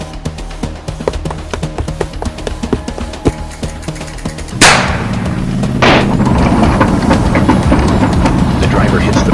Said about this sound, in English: The driver hits the brakes.